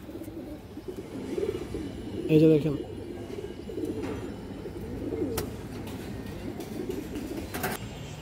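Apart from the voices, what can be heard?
pigeons cooing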